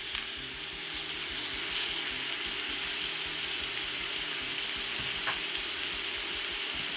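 Beef liver with onions and peppers sizzles steadily in a hot pan, with a continuous close frying crackle and faint stirring scrapes and no talk.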